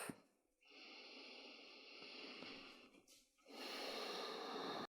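Slow, deep breathing in extended child's pose during a yoga session for digestion: two long, airy exhalations through the nose, close and soft, separated by a brief pause, with no talking.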